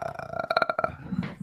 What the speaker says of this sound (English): You sound like you burped.